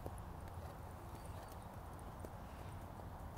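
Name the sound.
horse hooves clip-clopping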